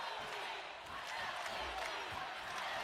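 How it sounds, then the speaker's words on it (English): Sold-out crowd cheering in the Pyramid during a college volleyball match, Hawaii against Long Beach State in the fifth set, a dense, distant roar of noise that holds steady throughout. "Sold out crowd in the pyramid, making some noise for both sides."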